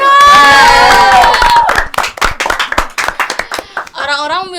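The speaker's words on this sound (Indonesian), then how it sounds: "Tepuk tangannya dong" Audience at a talk show cheers and claps loudly nearby, a swelling roar followed by a run of clustered claps, then a voice resumes talking.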